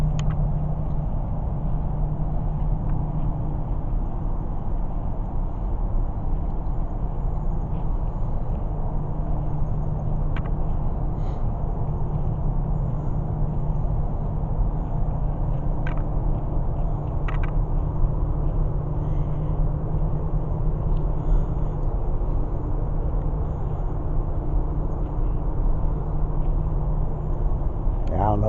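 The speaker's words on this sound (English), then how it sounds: "I don't know if you can hear the power plant in the background" A power plant near the island trail and campsites at Martin Creek State Park gives off a steady, deep rumble that holds unbroken for the whole stretch, with faint outdoor noise over it.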